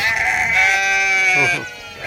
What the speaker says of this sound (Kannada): ಇದನ್ನು ಎಳೆ ಕುರಿ ಮಣಕ